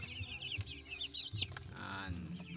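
Young broiler chickens, fifteen days old, cluck and peep in a steady chorus of high chirps, with a few louder calls standing out near the pen.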